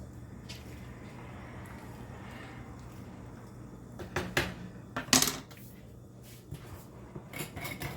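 Heavy cream is stirred into potato soup in a pot, with soft background hiss giving way to a cluster of metallic scrapes and clinks of a utensil against the pot, close and moderately loud.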